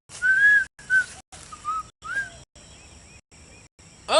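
A person whistles a bright tune in short separate phrases with brief pauses between them, clear and close with no talking.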